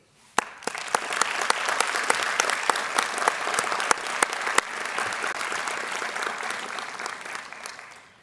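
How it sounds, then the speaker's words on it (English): Applause from a graduation ceremony crowd, dense and steady, with sharp individual claps standing out over about eight seconds before it fades. "Please join me in a round of applause"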